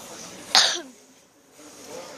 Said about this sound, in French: Vous m'excusez si je tousse dans la vidéo.